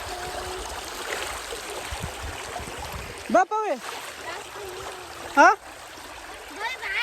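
Water of a shallow stream trickles and babbles steadily in the background as people wade across on foot, with voices and a couple of short high exclamations over the flow.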